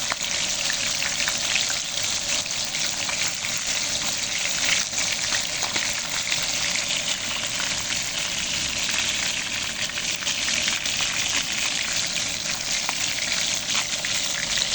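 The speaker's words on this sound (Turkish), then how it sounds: "Böyle tam güzel pişiyor balıklar." Fish frying in hot oil in a pan, the pieces browning on both sides; a steady, dense sizzle and crackle runs close and even throughout with no voices.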